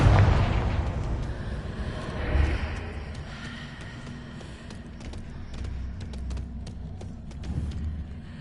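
A Confringo blasting spell bursts in Hogwarts Legacy, an opening boom with a rumbling tail and a second thud, followed by scattered crackling pops and debris clatter.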